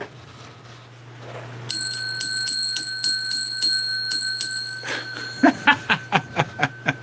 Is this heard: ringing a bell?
yes